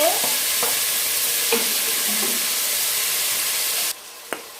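Chopped tomato tipped into a hot pan of softened onions for matoke, giving a loud, steady sizzle with a few stirring scrapes, before the frying noise drops sharply near the end and one clack sounds.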